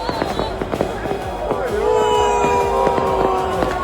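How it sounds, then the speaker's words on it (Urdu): Fireworks burst during street celebrations in Algeria for the MC Alger league title: rapid, irregular crackling pops and bangs with a sustained whistling tone, over a steady background of crowd noise and voices. "ہزاروں افراد سڑکوں، بیلکونیوں اور عمارتوں کی چھتوں سے آتش بازی کا نظارہ کر رہے تھے"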